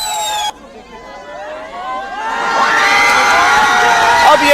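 Large protest crowd in Kathmandu, Nepal shouting and cheering amid arson, a sustained roar with whoops and high voices that swells louder toward the end after a brief drop.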